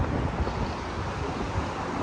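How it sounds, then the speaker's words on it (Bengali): Strong wind blows outdoors among motorcycles, a steady loud roar buffeting the microphone for the whole stretch with no voices. "এই যে এটা প্রচণ্ড বাতাস দেখুন"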